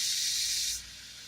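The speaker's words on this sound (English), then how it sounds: "So we're going to let these sit here and sizzle up." A loud, steady hiss of burgers sizzling on a hot grill, close up, dropping off abruptly partway through.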